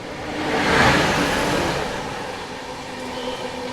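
A passenger train approaching at a railway station, a broad rumble that swells early, then eases into a steady lower roar, with no talk over it.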